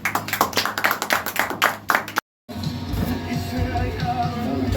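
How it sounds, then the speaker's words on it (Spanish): A burst of enthusiastic clapping from a church congregation at a baptism service with scattered shouts, breaking off briefly before a noisy murmur of voices continues. "Den un aplauso a Cristo."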